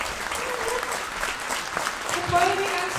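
A standing audience applauds in a short burst of dense clapping, with a few voices audible among the crowd.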